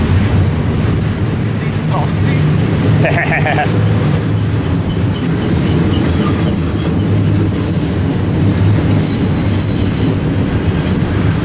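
Heavy Norfolk Southern freight train rumbling past close by, a loud steady roar of wheels with metallic squeals and clanks, voices faintly underneath.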